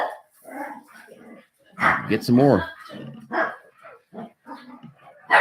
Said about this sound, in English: the 5 inside dogs are pitching a fit